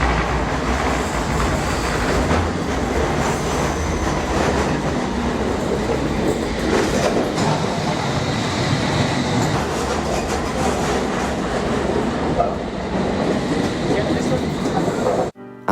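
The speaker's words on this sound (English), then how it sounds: "And then we caught the Circle line towards Liverpool Street, where we then caught the Hammersmith and City line towards King's Cross St Pancras." A London Underground Circle line train runs through the tunnels with a loud, steady rumble and wheel clatter that fills the whole stretch, then cuts off abruptly at the end.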